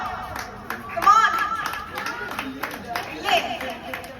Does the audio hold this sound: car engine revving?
no